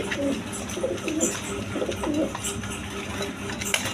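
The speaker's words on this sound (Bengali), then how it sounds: "এইখানে আরেক পেয়ার কবুতর আছে" Caged pigeons coo repeatedly at close range, soft throaty rolling calls over a light background hum.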